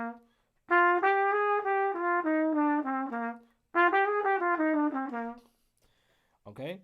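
A clean melodic line of quick single notes stepping through a bebop scale, stair-stepping up from the fifth, G, played in two phrases with a pause between, moderately quiet.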